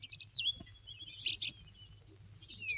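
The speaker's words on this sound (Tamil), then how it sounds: "குருவிகளோட சத்தம்" Sparrows give small bright chirps and short tweets over a quiet outdoor background with a low steady hum, the calls scattered and fairly close.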